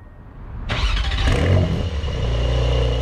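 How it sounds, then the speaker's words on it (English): A Porsche 911 GTS Cabriolet engine fires up with a sudden loud crank and catch, then settles into a steady, raspy exhaust rumble at idle, close and alone. "Starts up with a nice Porsche rumble."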